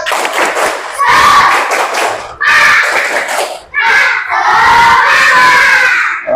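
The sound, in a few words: class doing a spirit clapping chant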